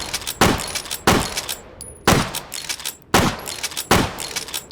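Gunfire in the VR shooting game H3VR: five loud, sharp shots spaced roughly a second apart, each followed by a ringing, decaying tail, with no talking.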